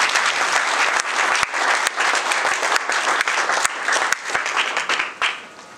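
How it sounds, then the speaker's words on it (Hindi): Audience clapping in a hall, sustained loud applause from many hands with sharp individual claps standing out, fading toward the end. "जिंदा हैं तो ताली बजा सकते हैं।"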